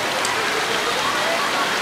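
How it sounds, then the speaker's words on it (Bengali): Heavy rain pours down in a dense, steady roar, loud and close, with no break across the short stretch. "এত জোর এখানে ঝমঝম করে বৃষ্টি হচ্ছে"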